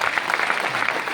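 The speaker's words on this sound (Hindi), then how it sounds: "एक बार ताली अपने लिए बजाइए" An audience claps together in an indoor hall, a dense, steady burst of applause lasting about a second.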